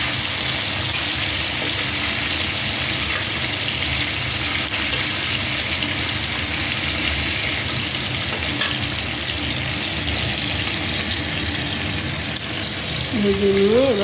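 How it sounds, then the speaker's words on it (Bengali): Prawns frying in a pan for a Bengali prawn malai curry, a steady dense sizzle and bubbling running continuously and fairly loud, with a faint tonal hum near the end. "ভেজে নেব।"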